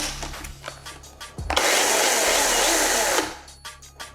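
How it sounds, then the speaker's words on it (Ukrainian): A Makita DUC357Z cordless battery chainsaw runs its chain in a steady, high, buzzing electric whine for under two seconds, bracketed by quieter clicks and handling noise. "І все, наша ланцюгова пилка готова до роботи."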